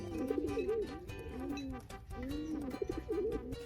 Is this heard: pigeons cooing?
yes